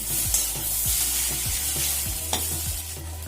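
A spatula repeatedly stirs and scrapes snake gourd with egg in a hot frying pan, a steady sizzle underneath and rhythmic sweeping scrapes about every half second, close and clear with no talking.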